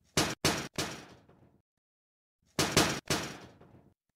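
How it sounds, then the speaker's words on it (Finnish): Two groups of three firm knocks on a window from outside, the groups spaced apart by a silent pause, loud and close with short ringing decays. "Joku koputti ulkopuolella ikkunaan."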